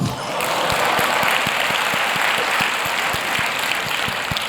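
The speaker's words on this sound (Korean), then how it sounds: "박수." A church congregation breaks into sustained applause during a sermon, a broad, steady roar of many hands with some distinct claps audible within it.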